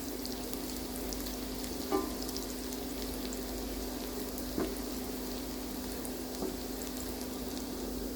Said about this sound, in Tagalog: minced garlic. Fry until the aroma releases.